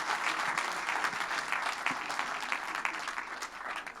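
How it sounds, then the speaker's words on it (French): A crowd claps steadily and enthusiastically, a dense close wash of applause that continues throughout without speech. "Et rien que pour ça, vous pouvez vous applaudir, mesdames, messieurs."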